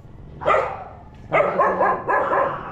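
A dog barks three times at close range, each bark loud and sharp, separated by brief pauses.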